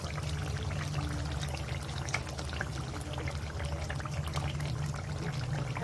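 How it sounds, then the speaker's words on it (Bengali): Marinated chicken for butter chicken is tipped into a hot pan, producing a dense, even hiss and wet sizzling with a low rumbling undertone, steady and close for several seconds. "এবার আমি মাংসগুলো ছেড়ে দেবো।"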